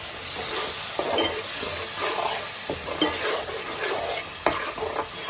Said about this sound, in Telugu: వేసి కలుపుకోండి.